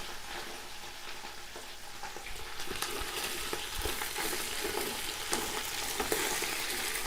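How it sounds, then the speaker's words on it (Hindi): Ginger and green chili being stirred in a hot pan for chana pulao, a steady close sizzle and frying hiss with scattered scraping clicks of the spoon throughout, no voices. "अदरक और हरी मिर्च मिक्स करेंगे।"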